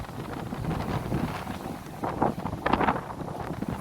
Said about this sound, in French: Regarde le vent qu'il fait.